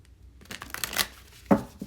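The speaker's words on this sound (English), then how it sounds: "I'm being asked to shuffle the deck, so I'm shuffling the deck" A deck of tarot cards is shuffled close up, producing quick riffling flutters followed by a sharper slap of cards settling together.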